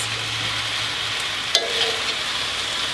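Chicken thigh and flat rice noodles for pad see ew stir-fried in a pan give a steady close sizzle, with one brief clatter as the noodles are tossed.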